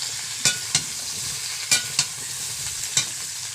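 Potatoes and pointed gourd fry in a pan with a steady sizzle, punctuated by about five sharp scraping clacks of a spatula stirring, close and without talk.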